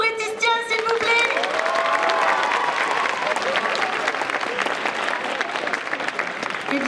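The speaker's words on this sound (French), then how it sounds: "je veux un tonnerre d'applaudissements pour Etistia" Cosplay contest audience at the Troyes Japan Pop Show 2023 giving a jury member a round of applause, loud dense clapping mixed with some cheering that carries on steadily throughout.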